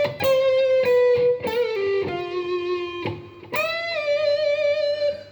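An electric guitar plays a slow, sustained intro melody alone, with distinct picked notes, a few gliding between pitches, loud and close.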